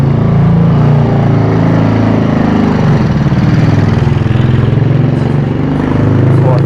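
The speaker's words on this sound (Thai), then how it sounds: "เดี๋ยวเรามาฟังเสียงเครื่องดีกว่า" A Honda MSX motorcycle with an aftermarket exhaust idles loudly close by, its engine thumping in a steady, slightly lumpy pulse with a deep, throaty tone throughout.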